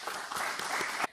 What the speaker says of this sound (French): je propose que nous les applaudissions